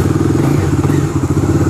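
A 2022 Bajaj Dominar 250 motorcycle idles close by, a steady loud throbbing exhaust burble with an even pulsing beat and no talk.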